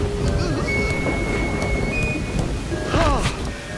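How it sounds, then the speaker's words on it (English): Heavy rain pours steadily through an animated jungle storm scene, with thunder swelling near the end and faint voices in the background. "Let's get out of the rain, Tantor."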